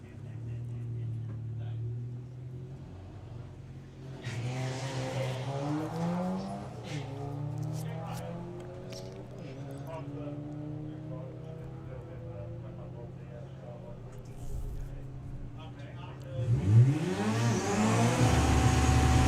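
Drag racing cars, a VW Golf GTI and an Audi A6, accelerate at a drag strip, engines revving and rising under a commentator's steady talk, with a louder surge near the end.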